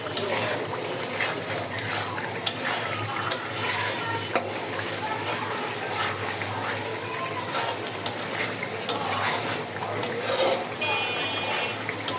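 Spice paste for chicken roast fries in a pan with a steady sizzle. Frequent scraping strokes from stirring and a few sharp clicks of the spatula sound close by.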